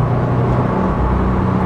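A 2018 Subaru WRX STI engine droning steadily and loudly from inside the car while driving.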